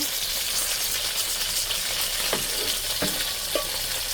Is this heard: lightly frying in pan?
yes